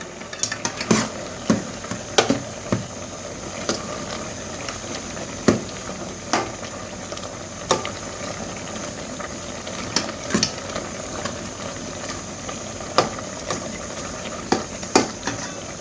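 Brinjal dal bubbles and simmers in a pot, a low continuous boil broken by sharp spoon scrapes and clinks against the metal at irregular intervals, with no talking.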